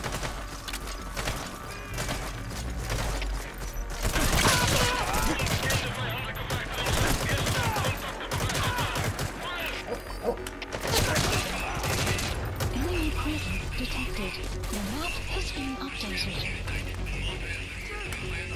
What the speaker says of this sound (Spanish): Se armaron los balazos y los trancazos